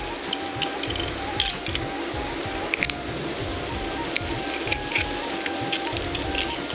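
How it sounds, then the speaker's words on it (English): Three garlic cloves being crushed, with a continuous close, gritty squishing and grinding texture, rhythmic low pressing pulses and a few sharper clicks over a steady noisy background. "You have 3 cloves of garlic. I'm going to crush those."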